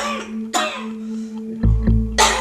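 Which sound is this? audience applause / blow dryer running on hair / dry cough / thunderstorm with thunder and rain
dry cough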